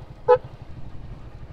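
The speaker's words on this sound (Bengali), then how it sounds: "আরে হর্ন বাজে কোনটা" A vehicle horn gives one short toot on a Dhaka street at night, standing out over a faint low traffic rumble.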